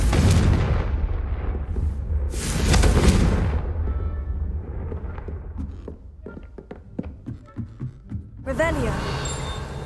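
Confringo blasting spell detonations in the video game Hogwarts Legacy, loud bursts early on followed by scattered thuds and crackling debris impacts, with game ambience throughout.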